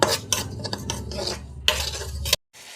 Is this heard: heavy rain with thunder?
no